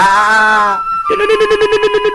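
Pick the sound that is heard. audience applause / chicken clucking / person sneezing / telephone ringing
telephone ringing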